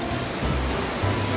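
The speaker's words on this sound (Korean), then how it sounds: "여기가 동네 폭포인가 봐요." A village waterfall on Ulleungdo, where water drops from a fair height into a valley, gives a steady broadband rushing roar that stays even and continuous for a brief moment with no voices.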